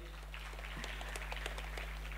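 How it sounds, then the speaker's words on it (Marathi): An audience claps for child performers at a talk event, a faint, steady patter of scattered hand claps from a small crowd heard at a distance over a low mains hum. "त्यासाठी त्यांच्यासाठी एकदा टाळ्या झाल्या पाहिजेत"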